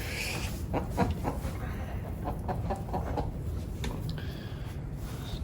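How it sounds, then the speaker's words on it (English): A large hen clucks softly and intermittently while handled for weighing on a scale, close by, amid rustling and handling noises. "here we got one hen. She's pretty large."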